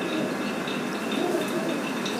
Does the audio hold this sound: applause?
no